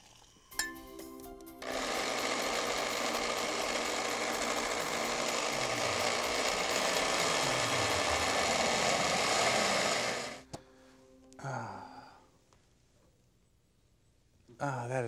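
A blender purees vegetables and corn for soup, a loud steady whir running for about nine seconds before cutting out, followed by brief clatter and handling noises.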